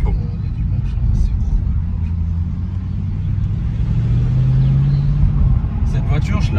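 Car engine running with a deep, steady rumble that swells slightly as it revs, close and continuous under a voice talking over it.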